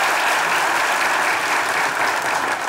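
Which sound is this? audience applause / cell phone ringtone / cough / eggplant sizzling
audience applause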